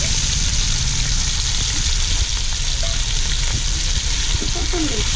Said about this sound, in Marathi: मसाला टाकला आणि हे परतून घ्यायचं